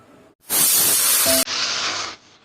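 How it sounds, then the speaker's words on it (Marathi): A pressure cooker whistle, cooking rice for kheer, releases a loud, sharp blast of hissing steam that cuts off abruptly, then continues in a second, slightly softer burst before fading. "तर आपल्या कुकरला आता 4 शिट्ट्या झालेल्या आहेत."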